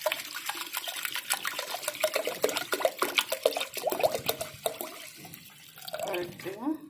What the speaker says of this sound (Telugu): ఇప్పుడు నేను వాటర్ వేసుకుంటాను అందాజుగా కుక్కర్లో.